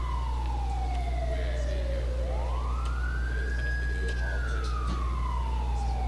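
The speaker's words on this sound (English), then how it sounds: "The damn fire department and ambulance don't know how to turn their sirens off." A fire engine and ambulance siren wail in a video game, one long tone sweeping slowly down, up and down again over a steady low engine rumble, close and continuous.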